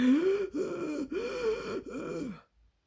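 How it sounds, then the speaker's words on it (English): Four strained, voiced gasping breaths in quick succession, close and fairly loud, then silence. "The animals and birds lay on the ground gasping"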